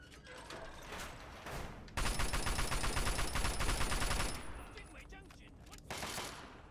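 Rapid gunfire in a permadeath video game against snipers, with dense bursts of shots, a sustained rattling volley in the middle and scattered shots around it, loud and close.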